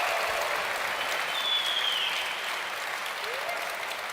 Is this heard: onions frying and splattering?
no